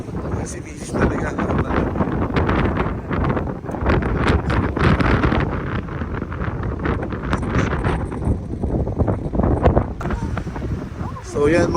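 Strong, cold mountain wind at Malico, San Nicolas, Pangasinan, with loud, continuous gusting roar battering the microphone throughout, while people talk underneath.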